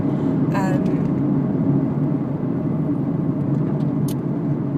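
A car driving along, with a steady loud road and engine rumble throughout and brief higher squeaks over it, and no talking.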